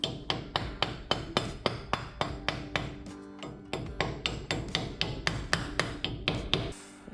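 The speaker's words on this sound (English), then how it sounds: "we will tap in our hub cover with our rubber mallet." A rubber mallet taps a wheel hub cover into a Tacoma wheel hub during a wheel bearing replacement. The blows come as a long series of evenly spaced, close, dull knocks, about two to three per second, with a short pause partway through.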